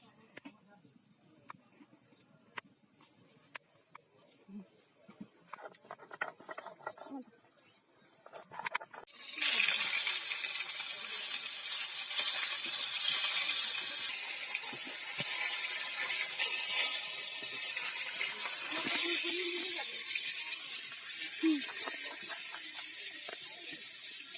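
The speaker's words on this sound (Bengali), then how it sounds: "দেখো এবারে বাটনা ভাজছি" Spice paste (batna) frying in a pan over a clay stove breaks into a loud, steady sizzle partway through, after a quiet stretch with scattered clinks and small handling noises.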